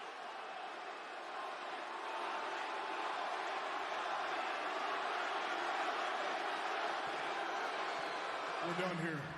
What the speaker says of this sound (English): You managed to get more people booing.